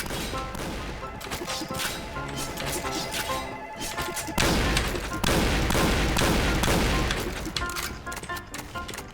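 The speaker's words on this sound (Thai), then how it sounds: "ยิงสับเล่นแล้ว" Rapid gunfire in the shooter game Point Blank comes as dense, loud volleys of shots that run almost without pause, with heavy thuds and impacts layered in.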